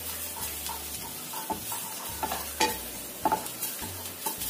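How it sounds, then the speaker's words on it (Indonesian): Ginger and garlic sautéed in a pan for a Chinese-style soup: a soft sizzle broken by repeated scraping stirs and a few light clinks of a utensil against the pan, close and fairly quiet. "kita tumis sampai jahe dan bawang putihnya ini tercium bau enak"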